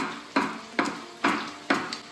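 Chopped flat-leaf parsley, stems included, is stirred through a sauce in a pan, giving four or five evenly spaced scraping strokes with a soft sizzle underneath, close up and with no talking.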